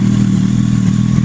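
A 2008 Yamaha YZF R1 sport bike fitted with white roadracer exhaust tips idles, giving a steady, deep, throbbing engine rumble that is loud and close with no voices over it.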